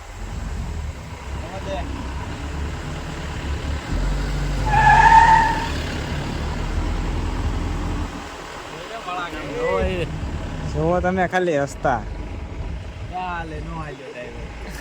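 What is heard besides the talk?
car driving around a curve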